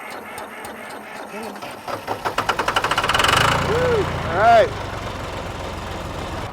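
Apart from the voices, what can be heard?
old tractor engine starting and idling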